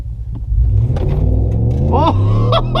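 A 2019 RAM 1500 pickup in four-wheel drive launching hard, deep engine rumble climbing as it accelerates, close and loud, with a voice exclaiming over the rising revs.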